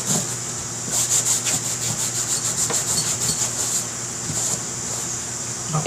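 Steady, gritty rubbing on leather grip covers during cleaning, close and continuous with a rough abrasive texture and fast repeated strokes.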